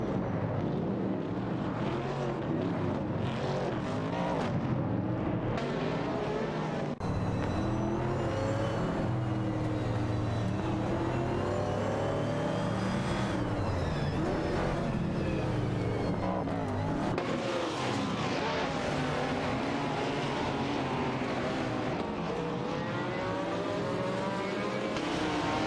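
AI-driven race cars, a Nissan R382 and a March 777 Chevrolet, roar through a race, with engines snarling loudly and continuously and pitch sweeping up and down through gear changes and passes.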